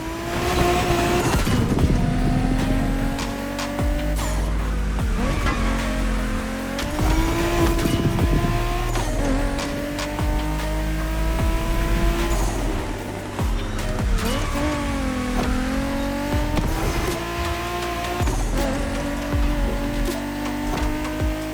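Cars racing in The Crew Motorfest, a loud, continuous engine roar with repeated rising revs, gear shifts and tire squeals throughout.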